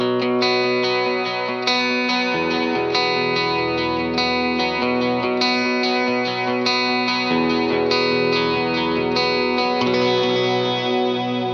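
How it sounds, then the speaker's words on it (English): Electric guitar run through a Line 6 Helix with heavy reverb and delay, lush, sustained chords and picked notes blurring into a continuous wash with rhythmic repeats, loud and steady across the whole passage. "The next snapshot that I have here is my heavy reverb and delay snapshot"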